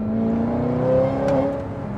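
A wrecked Audi R8 accelerates hard, its engine droning and climbing in pitch with a steady rising whine, loud and close with no one talking.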